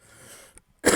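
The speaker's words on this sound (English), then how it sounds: "That's what the cough sounds like, by the way." A single short, harsh cough bursts out loudly after a brief quiet pause, preceded by faint breathy noise.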